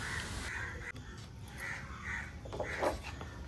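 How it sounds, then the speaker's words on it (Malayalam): Crows caw loudly and repeatedly close by, with harsh calls in several bursts over a steady outdoor background, with no talking. "കാക്കയുടെ ഭയങ്കര ശബ്ദമാണ്"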